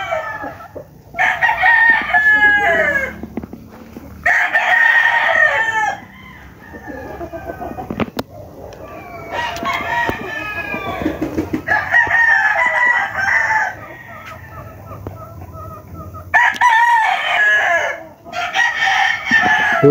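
Young stag roosters crow loudly and close up, one long cock-a-doodle-doo after another, with short quiet gaps between and some calls overlapping.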